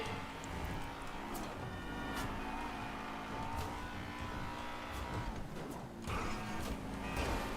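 A video game car engine roars steadily with revving and tire noise, loud and continuous throughout, the sound of a racing car pushed through a drift in GTA RP.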